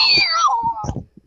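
A voice imitates the meow of a toy cat bought at a Salvation Army thrift store: one drawn-out, falling meow, followed by brief bits of talk.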